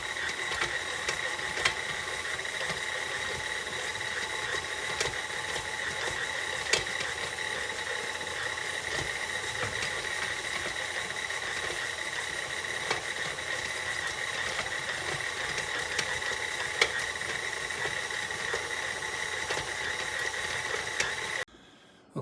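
A stand mixer churns bread dough in a kitchen, giving a steady, continuous mechanical whir and grinding hum with faint periodic clicks that runs unbroken for about twenty seconds before cutting off.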